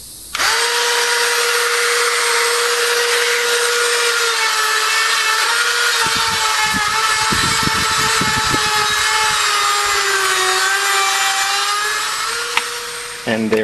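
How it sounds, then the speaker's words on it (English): A high-pitched Dremel rotary tool with a small sanding attachment whines steadily at close range while sanding the wood of a homemade arcade game controller, with a scratchy grinding texture that rises briefly midway and continues for the whole clip. "put this little sander on there and just see if we can sand away just enough"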